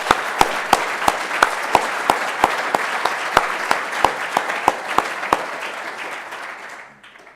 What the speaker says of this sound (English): Big round of applause for all of our diplomas.